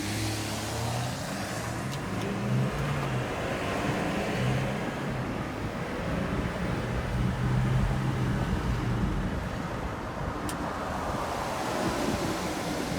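A 2018 Jeep Wrangler JLU Rubicon on 38-inch tires drives hard, producing a steady, loud roar of engine and road noise mixed with wind buffeting across the whole stretch, with no speech.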